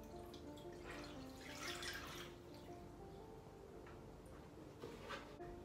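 Water is poured steadily into an ikebana flower vase to cover the kenzan, with soft continuous splashing and dripping at low level throughout and no talking.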